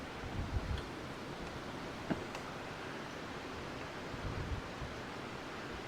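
Steady wind blows outdoors in a shaded spot where queen cells are being grafted, a broad constant rush with soft buffeting gusts near the start and end and one brief knock, no talking.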